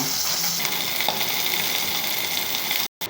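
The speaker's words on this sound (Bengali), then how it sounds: "প্রথমে মাছটা আমি ভেজে নেব।" Bata fish frying in a pan, a steady close sizzle and hiss that cuts out abruptly for a moment near the end, with no voices.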